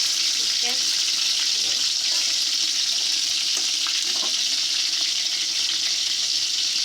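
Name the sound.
potatoes, chicken and raisins frying in pan for biryani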